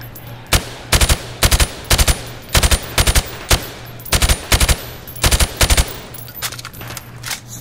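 Gunfire in Call of Duty Modern Warfare Remastered, loud and close, in short rapid bursts of about three to four shots each, repeated around a dozen times with brief pauses between.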